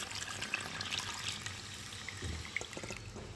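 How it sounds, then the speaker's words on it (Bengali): Hot water poured into a pot of cooking dal with boiled raw mango, a faint, steady liquid splash and trickle close by, no talk. "আর এখন এর মধ্যে আমি গরম জল ঢেলে দেবো"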